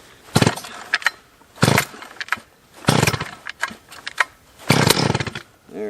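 A ported 70cc chainsaw with a hand-filed chain, started on choke: four loud, sharp pull-cord bursts spaced about a second apart, each a rough sputtering crank, with a final pop at the end.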